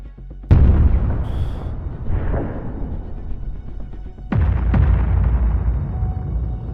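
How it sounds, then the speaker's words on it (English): Artillery shells strike a Russian military convoy. One heavy boom comes first, then after a rumbling pause two more blasts land in quick succession, each loud, sharp and followed by a long decaying roar. "quickly launches an artillery strike"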